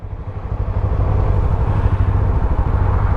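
A 2025 CFMOTO 300SS sport motorcycle engine under way while riding, a loud, steady mid-pitched drone that builds slightly and holds close and clear, with no talking.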